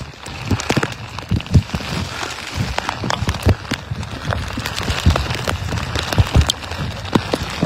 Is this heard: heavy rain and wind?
yes